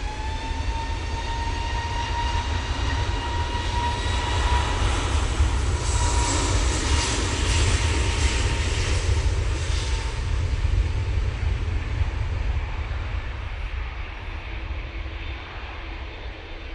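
A jet airliner takes off at Manchester Airport, its engines roaring in a loud, steady, broadband rumble with whining tones that swells and then slowly recedes, heard without any talk.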